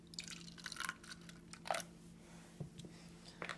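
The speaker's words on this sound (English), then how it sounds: "And then you pour in a little milk, just to add some fluffiness." Milk is poured into whisked eggs in a home kitchen, making a faint, soft liquid dribble with small splashy drips scattered over a few seconds.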